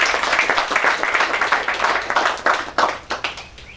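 Audience applause at the Ahmed Kathrada memorial, a steady dense patter of many hands clapping that thins into scattered louder claps toward the end, with a faint voice underneath.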